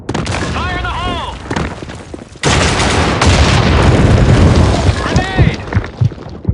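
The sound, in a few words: grenade explosion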